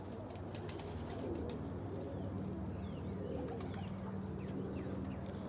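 Blue bar homing pigeons, a mated pair in a loft, coo steadily in low throaty murmurs, joined by light chirps and rustling from other birds, with no talk.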